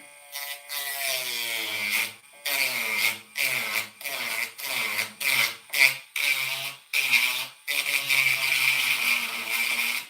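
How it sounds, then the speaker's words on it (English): A small nail Dremel rotary tool is used to finish a replica of Guts' Dragonslayer sword from Berserk. It gives a close, whining motor hum in repeated short bursts, starting and stopping, with its pitch shifting slightly between runs. "these little nail Dremels are awesome. You can change direction on it and all kinds of stuff."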